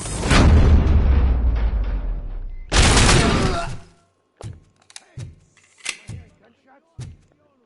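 Explosives detonating during a heist in the RoboCop: Rogue City video game: two loud, broad booming blasts with rumbling tails, followed by a string of sharper, smaller bangs and thuds.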